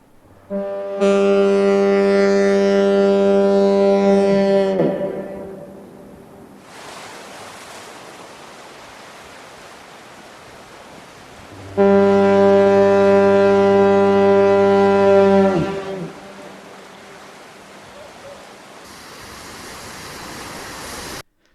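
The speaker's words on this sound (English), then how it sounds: "Portlanders particularly loved the grunt at the end of each blast, caused by the piston decelerating as the air supply was cut" Two long, loud blasts from the Portland Bill lighthouse foghorn, a deep, rich tone, each ending in a low grunt as the piston slows once the air is cut, with a quiet pause of surf-like hiss between them.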